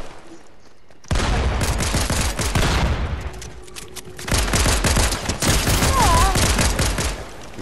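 Fortnite gunfire in a squads match, rapid automatic bursts and repeated shots erupting suddenly after a quiet start, loud and dense with bursts continuing to the end.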